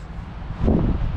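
Low, blustery cold wind noise buffets the microphone outdoors in Turku, swelling stronger about halfway through and staying rough to the end.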